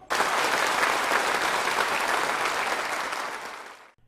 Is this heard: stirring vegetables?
no